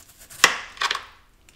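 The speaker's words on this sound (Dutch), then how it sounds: "En dat ga ik in zo'n dun mogelijke plakjes snijden." A knife cuts watermelon into thin slices on a board, with one sharp chop followed by a quick cluster of two or three crisp cuts, close and alone with no talk.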